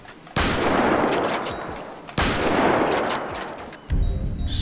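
Heavy Sniper MK2 in GTA 5 with the Real Immersive Gun Sounds mod fires three loud, close shots, each a sharp crack followed by a long rolling echo that trails off before the next.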